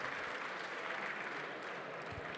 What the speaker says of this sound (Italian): allora un applauso a Visa e Breadmaps per questa presentazione,